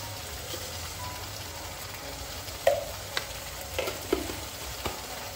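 Spice masala for an egg and chicken curry frying in a pan, a soft steady sizzle with a few sharp clinks and scrapes of the spoon stirring, fairly quiet and close, without talk.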